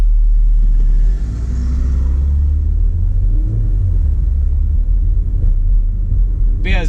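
A car drives through Eastpointe and Roseville, Michigan, with a loud, steady low engine and road rumble heard from inside the cabin, a slight shift early on, and a brief clatter at the end.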